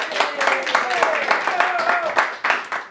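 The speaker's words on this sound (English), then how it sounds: "Let's have a round of applause for the Japanese bloody legend" Audience applause for a Japanese legend at a storytelling event, a smaller crowd clapping unevenly with individual claps standing out, moderately loud, with a faint voice or tone running underneath.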